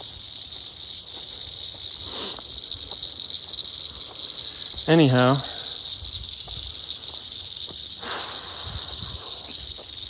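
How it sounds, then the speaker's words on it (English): Frogs and insects by a pond, heard while walking past: a steady high insect drone runs throughout, with a brief loud croaking call near the middle and a few faint chirps. "I'm walking by like a pond with, I think they're like some frogs and maybe some insects."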